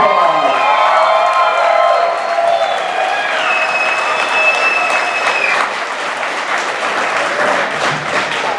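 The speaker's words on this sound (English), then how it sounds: "Give them a big round of applause." Sustained audience applause with cheering at a school choir's inaugural concert, steady and loud throughout with whistles and shouts rising above the clapping.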